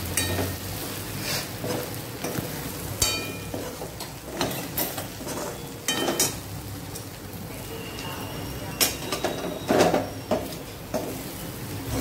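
Okra and potato curry being stirred with spices in a home kitchen pan, a steady soft scraping and sizzle with intermittent clinks of a spoon against the pan, fairly close, with no talking.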